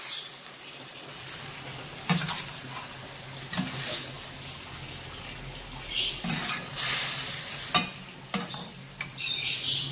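Sambal goreng with tender meat is stirred in a pan, making repeated spoon scrapes and clinks over a quiet background sizzle, with bursts of louder stirring spread through the clip and no talk.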